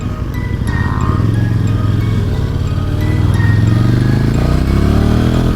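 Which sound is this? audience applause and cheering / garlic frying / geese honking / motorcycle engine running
motorcycle engine running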